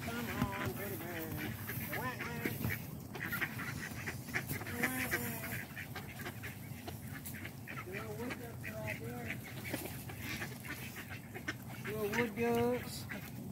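Wood ducks and big geese quack and honk repeatedly at close range while people chat over the calls throughout.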